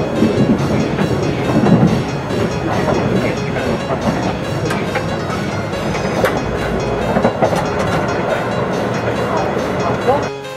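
A Kintetsu limited express train rumbles steadily past Takayasu Station, with rhythmic clatter of wheels over rail joints, loud and close, continuing throughout.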